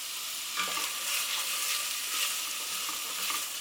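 Toasting orzo sizzles steadily in a pan while being stirred, with soft scraping swishes over a constant bright fry, close and moderately loud with no talking.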